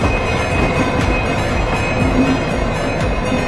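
Indian Railways WDG4 diesel locomotive hauling the Poorva Express, a loud, steady close rumble of engine and rolling wagons with faint wheel clatter throughout, no voices.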